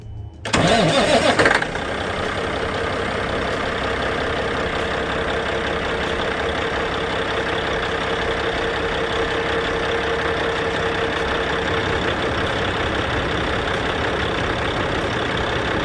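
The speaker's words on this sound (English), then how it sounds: "start the truck" A Kenworth W900L truck engine cranks and fires with a loud burst, then settles into a steady, rumbling diesel idle that runs evenly for the rest of the clip.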